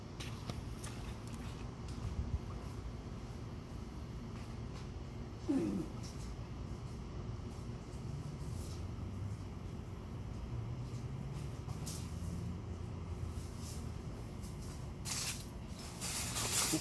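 A garden hose spraying water to clean mold off a residential driveway, a steady soft hiss running throughout at low level with occasional brief clunks and no talk.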